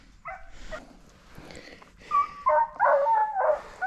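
Hunting dog barking and baying at a bobcat up a tree, a few sharp tonal barks and yelps coming in a rising burst toward the end, moderately near in an outdoor setting.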